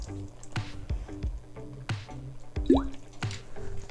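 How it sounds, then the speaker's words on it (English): Rose water added to a simmering lamb yakhni pulao, heard as a few close, soft liquid drips and splashes with small wet squishes scattered over a quiet kitchen background. "adding some rose water"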